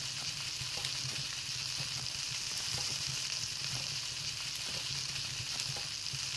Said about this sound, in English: I'm cooking baked berries